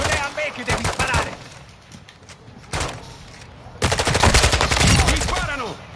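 Bursts of automatic gunfire and single shots from the Warzone 2.0 video game, rapid rattling volleys that pause briefly then return louder and denser, with gameplay clutter around them.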